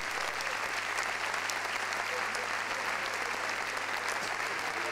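Steady applause from an audience thanking troubadours at a São Nicolau dance event, dense and continuous throughout, with a low hum running underneath.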